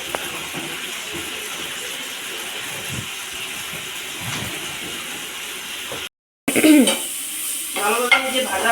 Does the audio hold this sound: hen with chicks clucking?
no